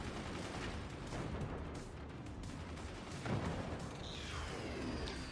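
Machine gunners firing in the Forts RTS game: a steady, faint, dense rattle of fire mixed with distant booms and impacts, continuous throughout.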